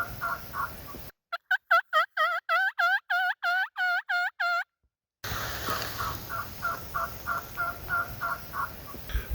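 A wild turkey hen yelps in a rapid series of about a dozen loud, clear calls during a spring hunt in Washington State, with quieter, more distant yelping before and after.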